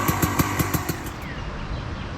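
Kawasaki KX450 two-stroke dirt bike engine running, with a rapid pulsing rhythm of sharp bursts at first that settles into a steadier, rougher drone, close and fairly loud.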